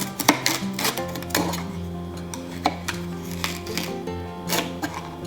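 A knife slices through an outer leaf of red cabbage, trimming it to the size of a fermenting jar lid, giving a steady run of crisp cutting taps and crunches close up, with no talk.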